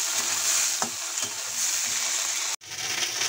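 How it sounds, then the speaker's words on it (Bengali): Green peas fry lightly in hot oil in a pan for a matar sabji. A steady, close sizzle runs throughout, broken by soft stirring scrapes and one brief cut in the sound. "মটরগুলো ফ্রাই করে নিয়েছি।"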